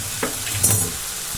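Fried okra is tipped into masala in a pan and stirred, giving a soft sizzle with a couple of brief scraping stirs, short and fairly quiet.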